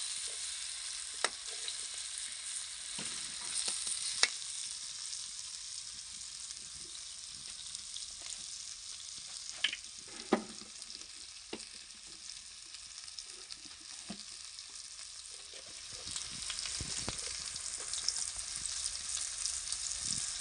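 Pumpkin frying in oil as dry spices go in, a continuous low sizzle in the pan with scattered clicks and scrapes of stirring throughout, close and fairly quiet.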